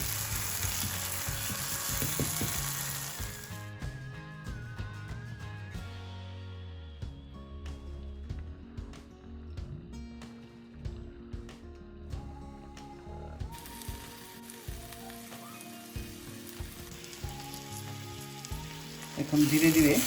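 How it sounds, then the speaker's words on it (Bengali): Raw prawns are poured onto fried onions and spices in a hot pan for chingri mach bhuna, with a steady close sizzle of frying and occasional stirring and clinks, and no voices. "এখন আমরা এই চিংড়ি মাছগুলো আমরা এই স্পাইসের উপর ঢেলে দেব।"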